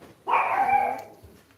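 A single drawn-out bark or yelp from a nearby dog, fairly loud, followed by quiet.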